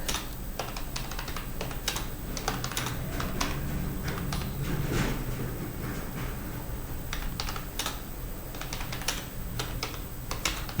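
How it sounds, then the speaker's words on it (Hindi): Rapid, steady keystrokes clatter on a computer keyboard during typing practice software drills, close and continuous with a dense rhythm of clicks and no talking. "वो देख कर आपको टाइप करना है"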